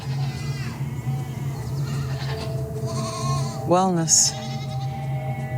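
A goat bleats once, loud and wavering, over a steady low hum. People are talking throughout.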